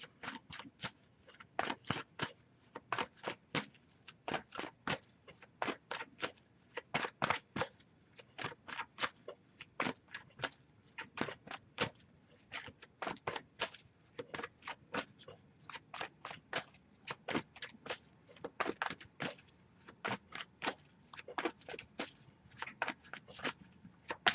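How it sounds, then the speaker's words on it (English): A tarot oracle card deck being shuffled by hand, a long run of crisp, rapid riffling snaps and card flutters in irregular bursts, close and fairly quiet, with no talking. "I'll give it a few more shuffles"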